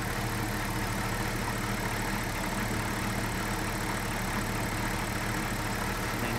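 A salvaged BMW 545i E60 with its engine idling under the open hood, a steady even hum with no knocking or belt squeal, heard close and unbroken throughout.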